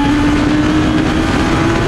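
A Radical SR3 XXR race car's 1.5-litre four-cylinder engine, rated at 235 horsepower and revving toward 10,000 RPM, holds a loud, steady high-pitched drone close by, with no speech over it.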